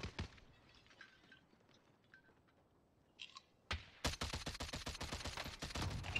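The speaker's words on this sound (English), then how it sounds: "Oh, I'm getting shot from the roof." Shots from a rooftop in the Warzone shooter game: a quiet stretch with a few scattered distant cracks, then a loud, rapid burst of sustained automatic gunfire close by.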